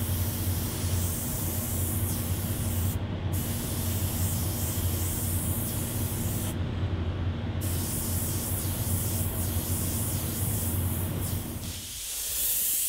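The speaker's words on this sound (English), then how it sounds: "just brightening up some of the edges of the fire there and tapering it off just with a bit of freehand airbrushing" Steady airbrush hiss from freehand spraying of Createx Candy paint on fire artwork, continuous and close with a couple of brief pauses, then cutting off near the end.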